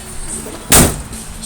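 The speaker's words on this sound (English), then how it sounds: "I'm gonna jump in my army truck." A door on a 1986 US Army truck slams shut once, a sharp loud thud midway through against a quiet outdoor background.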